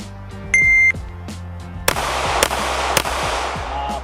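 A Canik TTI Combat pistol fires on steel targets at a range: a timer beep, then several loud sharp shots in quick succession with ringing tails, among background noise.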